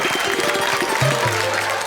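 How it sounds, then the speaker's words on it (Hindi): Audience applause at a Hindi comedy poetry show, a dense wash of clapping from a crowd filling the whole stretch, with a voice and a sustained tone briefly rising through it. "तालियां बजाओ"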